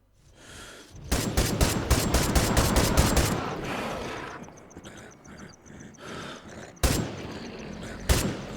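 Gunfire in the survival game Miscreated: dense rapid bursts of shots for about two seconds, then quieter scattered background, with two sharp single loud shots near the end; no talk.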